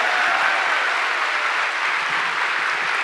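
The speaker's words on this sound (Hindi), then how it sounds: "मैं चाहता हूं कि आप सब लोग गगनभेदी तालियों से स्वागत करें माय ब्यूटीफुल वाइफ सरोज।" Sustained audience applause at an Amway distributor celebration event, steady and loud throughout, welcoming a couple onto the stage with no voices over it.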